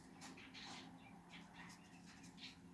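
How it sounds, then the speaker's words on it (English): Small birds chirp and tweet faintly in the background of a quiet indoor room, with brief high calls scattered over a steady low hum and no talking. "Sorry about the birds in the background."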